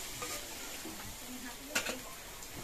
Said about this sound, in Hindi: इसको अच्छे से फ्राई कर लिया जाएगा